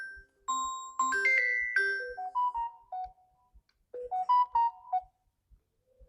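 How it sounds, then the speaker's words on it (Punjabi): An incoming call sets off a mobile phone ringtone that plays a clear, bright electronic melody in two phrases with a short pause between, moderately close, over faint regular ticks and without speech. "ਲੈ ਫੋਨ ਤੇਰੀ ਮੰਮੀ ਦਾ ਆ ਗਿਆ ਜੀ"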